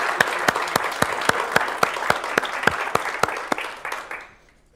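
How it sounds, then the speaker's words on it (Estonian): An audience at an Estonian diversity agreement event gives a short round of applause with sharp, distinct claps that fade out to silence near the end. "teeme suur aplausi Baltic Relocation Servicele"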